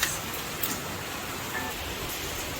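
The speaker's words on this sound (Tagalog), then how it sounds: "Grabe lakas ng ulan guys" Heavy rain from Super Typhoon Carina roars as a dense, unbroken wash of noise, steady and enveloping, with a couple of brief louder splashes and no speech.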